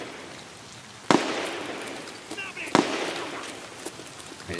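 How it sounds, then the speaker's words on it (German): Two sharp, distant gunshots from the video game Escape From Tarkov crack over a steady noisy background, spaced more than a second apart, with people talking in the scene. "Das hört sich so an, als wenn der auf einen Spieler schießt."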